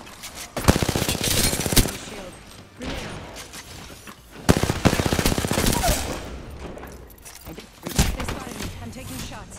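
Apex Legends gunfire rattles in rapid automatic bursts, loud and punchy, in several clusters separated by brief lulls, with a player talking over the shooting.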